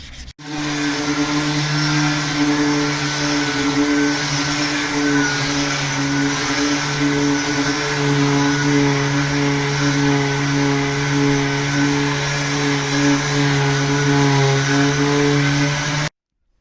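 Steady power sanding of a BB8 droid ball with coarse 100-grit paper, a continuous loud buzzing hum with a strong tonal drone that runs unbroken for about sixteen seconds, alone without talk.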